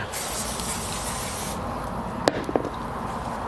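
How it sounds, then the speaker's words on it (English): Liquid sprayed onto a ribeye steak on a Weber kettle grill: a steady hissing spray runs for over a second, then fades into a softer background hiss with a couple of small clicks. "Now we're going to go over here and spray this a little bit."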